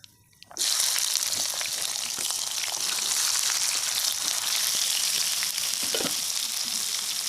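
Chili, tomato and onion hit hot ghee in a pan: after a brief quiet start, a loud, continuous sizzle with occasional pops and crackles carries on steadily, close by.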